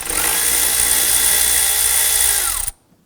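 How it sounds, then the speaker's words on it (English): A power driver with a 7mm socket spins briefly to loosen the lower intake tube clamp on a 2015–2020 Ford F-150, a steady whirring buzz lasting under three seconds before cutting off abruptly into near silence. "Using our 7mm socket and driver here, we're going to loosen the lower intake tube."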